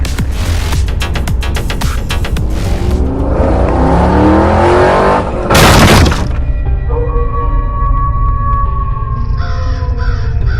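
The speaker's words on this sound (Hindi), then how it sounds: "और फिर बाबा बाइक से कमला के बंगले में जाने के लिए निकल जाते हैं।" A motorbike engine in a horror video game revs and roars loudly as the bike rides off, with a sharp burst of noise midway and game sounds and crow caws in the background.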